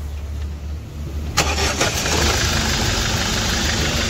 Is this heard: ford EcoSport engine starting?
yes